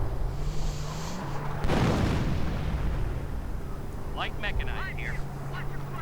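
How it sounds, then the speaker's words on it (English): Artillery shelling in a WWII real-time strategy game set among Normandy bocage, a loud booming blast rolling out over steady battle rumble, then scattered sharper impacts, with ambient game noise throughout. "A bit of artillery."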